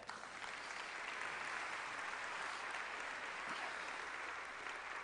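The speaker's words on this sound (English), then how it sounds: "I hope somebody claps at that." Steady applause from an audience at a school district opening day program, heard at a distance and fairly faint, continuing evenly for several seconds.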